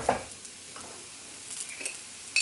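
Oil-roasted butternut squash seasoned with salt is stirred in a pan, with a soft continuous sizzle, a clink of the utensil at the start and faint scraping strokes, ending with a brief sharper scrape.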